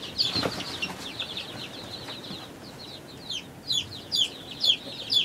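Baby chicks, including small bantams, chirp in sharp high peeps with soft clucks, starting busy, easing off, then returning as a close run of regular bursts.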